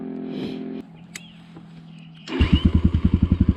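A motorcycle engine cranks with a few clicks and brief whirs, then fires up and runs with a loud, rapid, pulsing beat up close, revving rhythmically as it settles.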